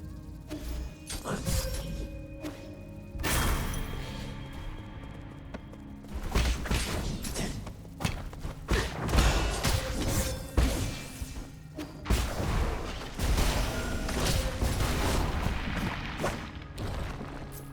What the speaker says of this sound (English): The explosion of the mutant killed all surrounding enemies.